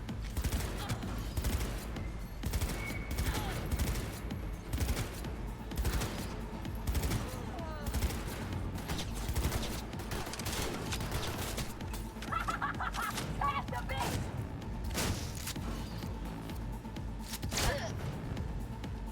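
Assault rifle fire in Cyberpunk 2077 crackles in repeated bursts over a busy game soundscape, sustained and fairly loud, with talk mixed in throughout.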